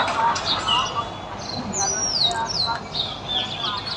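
Birds chirp and tweet in quick high calls over a soft outdoor background hum, scattered throughout at a moderate distance.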